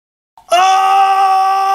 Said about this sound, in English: Scream like this.